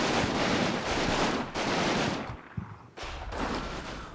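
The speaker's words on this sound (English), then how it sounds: "Militia retreating from the road objectives 1 and 2 bring the LMG team under fire" Gunfire in the video game Combat Mission, with a light machine gun team and retreating militia trading shots: dense bursts of rapid automatic fire in several volleys with brief pauses, loud and close.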